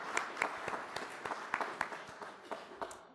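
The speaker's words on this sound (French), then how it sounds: "je propose qu'on l'applaudisse pour la remercier" A church congregation applauding at a Sunday service, a soft, distant patter of scattered claps for about three seconds, fading at the end.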